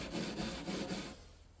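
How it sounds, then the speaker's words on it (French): Brush scrubbing ingrained grime off old wooden furniture, close rhythmic rubbing strokes for about a second before fading out. "simplement en frottant la brosse, la crasse qui est incrustée dans le bois"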